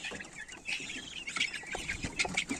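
Several Legbar chickens and roosters cluck and call in overlapping bursts, moderately close, with a busy farmyard background and no talking.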